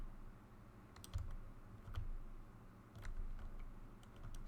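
Computer keyboard typing during a gaming livestream: soft, close clicks in short irregular bursts with brief pauses between, faint and alone without speech.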